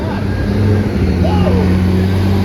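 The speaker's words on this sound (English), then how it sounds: "We got a bus here, folks." A bus rolls past at an event venue in Clearwater with golf carts nearby, its low engine drone steady and close for the whole stretch, joined by a rising whine midway.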